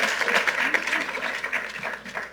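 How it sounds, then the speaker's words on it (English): Audience applause for the county executive at a gun safety announcement in the Town of North Hempstead, Nassau County: a steady, dense wash of clapping from a sizable crowd, fairly close, with no clear voices over it. "Let's give our county executive another round of applause."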